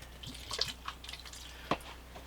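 Distilled white vinegar is poured out in a quiet space, heard as faint, sparse splashes and drips spread across a couple of seconds.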